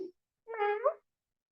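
A single short cat meow, clear and close, with a brief faint sound just before it.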